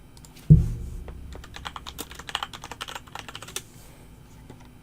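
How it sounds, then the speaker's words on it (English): Keys clatter on a computer keyboard in quick, uneven bursts of light clicks after a single soft thump, fairly quiet and close, with no talking. "I hear typing."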